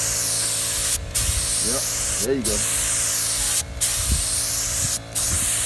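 Long continuous hiss of a spray gun painting a 1983 box Chevy car outdoors, cut by four brief pauses as someone speaks briefly over it.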